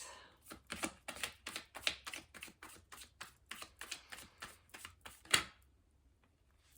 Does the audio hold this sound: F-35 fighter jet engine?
no